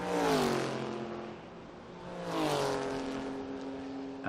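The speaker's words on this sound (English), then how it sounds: "taken over from Carlos Barbo by Pedro Matos, passing the Porsche." A historic race car overtakes a Porsche on a circuit, the engine note rising and falling in two passing sweeps, fairly faint and distant with tonal revving.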